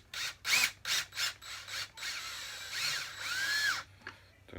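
A power drill drives screws into a plastic hoverboard casing. Several short, loud whirring bursts are followed by two longer continuous runs, close up with no talking.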